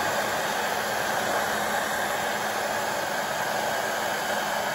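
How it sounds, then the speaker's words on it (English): A heat gun blows a steady, even hiss of hot air across covering film on a fiberglass model airplane, a constant close whoosh with no pauses and no talk. "I'm gonna take the heat gun and just go across and shrink it right into that fiberglass"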